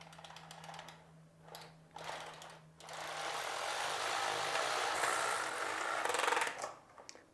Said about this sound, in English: Move the edge spring and take my carriage across